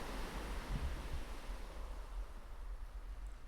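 Ocean waves washing onto a shingle shore on a cold coast, a steady broad wash of surf with soft low rumble and slight wind, continuous and fairly close with no voices.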